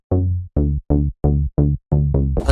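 Seven plucky synth bass notes from the Serum preset Love Songs, evenly spaced and played alone, each a rich harmonic tone decaying quickly, with a brighter noisy swell rising at the end.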